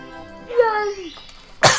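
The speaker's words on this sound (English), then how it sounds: "That's the first time I've coughed today." A person coughs once, sharp and close, after a short bit of voiced sound, while playing a video game.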